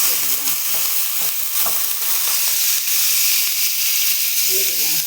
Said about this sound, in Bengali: হলুদ, লঙ্কা, আদা, রসুন, তেল দিয়ে একটু জ্বালিয়ে নিয়েছি।